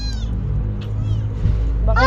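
A cat meows a few times, short high cries rising at the start and again more strongly at the end, heard close over a low background hum with no other clear sounds.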